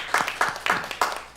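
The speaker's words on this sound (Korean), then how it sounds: "우리 민 집사님에게도 감사의 박수 한번 드립시다." A church congregation at a Sunday service in Seongbuk, Seoul, claps in a short burst of several sharp, fairly close hand claps that fade quickly.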